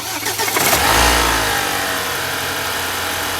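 BMW F30 3 Series engine cranking and firing up, with a loud low surge settling into a steady, noisy running drone marked by the bad bottom pulley.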